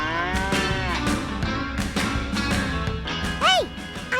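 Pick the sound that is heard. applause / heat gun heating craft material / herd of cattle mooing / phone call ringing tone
herd of cattle mooing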